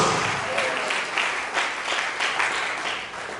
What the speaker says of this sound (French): je veux qu'on acclame Jésus qui est le roi de tous les rois